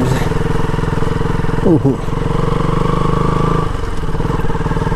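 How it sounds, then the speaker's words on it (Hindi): KTM RC 200 motorcycle engine runs steadily close by, a brief rev rising in the middle before settling back to a throaty idle-like drone, with a voice speaking over it. "इधर एक लगा दे एक्सीलेटर दे के निकाल लो आराम से।"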